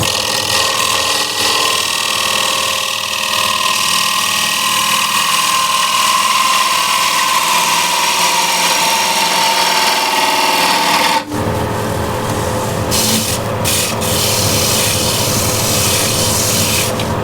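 A bowl gouge cuts into wood spinning on a lathe while turning a bead bowl, a continuous close rasping scrape with a steady hum, shifting to a harsher, brighter cut partway through.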